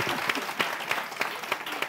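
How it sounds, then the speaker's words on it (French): Brief applause from a semi-final show audience for contestant Miss Tilalo, a crowd clapping with rhythmic sharp accents, moderately loud and continuous. "Applaudissements pour Miss Tilalo, s'il vous plaît."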